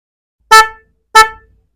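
Two short, loud beeps from a Motorstar Easy Ride 125 motorcycle dual horn, evenly spaced and close by, each a blaring two-tone toot that cuts off quickly.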